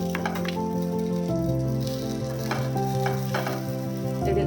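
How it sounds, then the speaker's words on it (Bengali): Evening snacks fry in oil in a pan, batch after batch, with a loud, steady sizzle broken by occasional stirring clatter and a low tonal hum underneath. "এবার আমি বাদবাকিগুলো এইভাবে ভেজে নেব"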